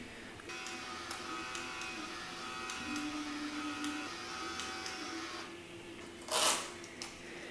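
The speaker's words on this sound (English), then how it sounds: "when the printer's connected, we have the option of printing out our photo" A Game Boy Printer runs while printing a photo from the Game Boy Camera, giving off a steady mechanical buzz with rhythmic clicks and stepping ticks, close and alone, ending with a brief louder whir.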